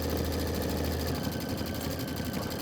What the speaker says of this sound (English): this is going to be 8 minutes of stitching